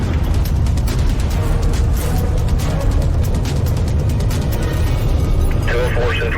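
A huge explosion feeds a massive fire with secondary blasts, heard as a loud, continuous, deep roaring rumble that fills the whole stretch while people talk over it.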